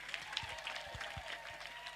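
Applause for Ramse at a live event, a steady patter of many hands clapping together, moderately loud and continuous with no talk over it.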